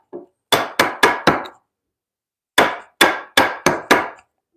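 Chisel struck with a mallet to make a stop cut in timber for mortise joinery: two sets of four sharp, ringing knocks in quick, even succession, loud and close, separated by a pause.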